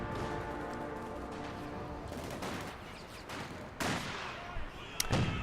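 Sniper and infantry gunfire in the Company of Heroes 2 battle, rapid crackling bursts and shots layered over a dense battlefield din, with a sharper close shot near the end and a voice talking in the background.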